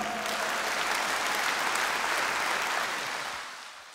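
A large crowd at a live concert in 2020 claps steadily, loud and dense, then the applause thins and fades away near the end.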